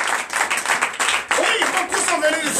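Congregation at a Sunday church service in Comè, Benin, clapping in acclamation, a dense, lively patter of hands mixed with loud voices and cheering close by.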